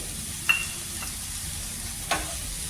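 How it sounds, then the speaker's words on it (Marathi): Hot water added to a sizzling pan of sprouted moth beans for misal, a soft steady hiss with two brief sharp bursts of spluttering, close and moderately quiet. "गरम पाणी टाकून घेऊ"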